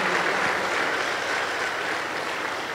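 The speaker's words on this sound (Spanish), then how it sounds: "Aplausos para el Señor Jesús." A church congregation at a Pentecostal service applauds in a dense, loud, continuous patter of many hands, with no voices above it.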